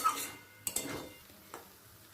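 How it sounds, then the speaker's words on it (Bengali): Tomato and potato mixed with apple snails in a pot for a curry, a few light clinks and scrapes of a spoon against the metal pot, close and sparse, with a faint sizzle between. "টমেটোটা আলু কুগলির সাথে ভালো করে মিশিয়ে নিলাম"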